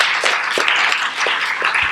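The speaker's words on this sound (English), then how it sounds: "Please give them a round of applause." A town hall meeting crowd applauds, with dense overlapping claps forming a steady, lively patter throughout.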